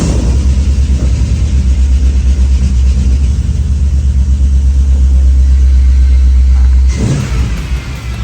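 The engine of a '59 Chevy Apache restomod truck runs at a steady, loud, deep idle with a throbbing low rumble close by, then cuts out near the end, leaving a quieter mechanical trail.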